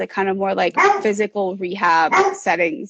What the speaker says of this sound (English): Sorry if you hear them barking.